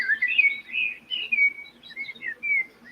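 Birds chirp and tweet outdoors on a morning, a steady run of short high calls and whistles from a middle distance, with no talk over them.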